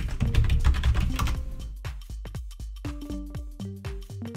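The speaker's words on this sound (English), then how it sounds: "Type in your password." A password is tapped out on a computer keyboard, a fast burst of close clicking keystrokes that slows into separate, evenly spaced key presses.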